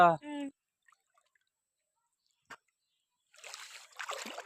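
Cold water splashes during an outdoor bath in a village, heard as a short burst of splashing near the end after mostly quiet; a voice speaks briefly at the start.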